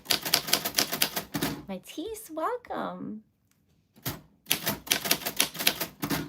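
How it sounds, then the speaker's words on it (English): Rapid typewriter keystrokes clatter in dense bursts, stopping for a stretch of speech and a short silence before the fast typing resumes; a voice talks during the middle break. "I love typewriters."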